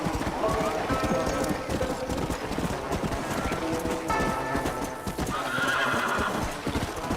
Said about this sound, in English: Well, there's a regular old horse.